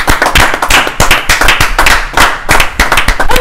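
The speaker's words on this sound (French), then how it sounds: "on peut applaudir encore pour Equinox" A television studio audience claps for Equinoxe TV in a close, loud burst of hand claps, uneven and lively, filling the whole few seconds without any voices over it.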